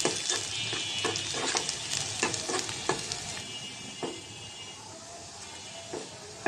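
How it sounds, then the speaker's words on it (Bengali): Chopped onion and garlic fry in oil in a pan for vegetable khichuri, sizzling steadily up close as a spatula scrapes and stirs in a run of sharp, irregular strokes that thin out toward the end. "রসুন, পেঁয়াজ কুচি, ভেজে নেব পেঁয়াজটাও"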